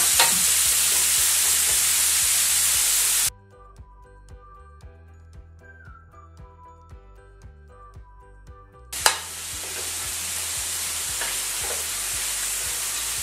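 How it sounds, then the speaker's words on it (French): Vegetables sweat in a hot pan for a lemon, ginger and apricot chicken fricassee, giving a loud, dense sizzle while being stirred, which drops away to a quiet gap with light clinks before the frying hiss returns. "Là, on va bien faire suer les légumes."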